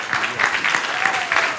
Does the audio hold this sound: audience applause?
yes